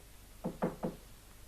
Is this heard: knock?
yes